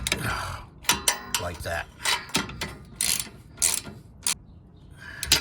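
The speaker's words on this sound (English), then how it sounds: "So I use just a regular socket wrench to go ahead and reattach" A socket wrench ratchets to reattach old, rusty bolts on a gasket cover, giving repeated close clicking strokes with pauses between them and a brief spoken remark.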